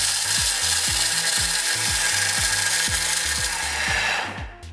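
A kitchen blender runs at speed 10 grinding malt powder, a loud whirring motor with a harsh rattling grind and a repeated ticking rhythm, close, before it cuts off at the end.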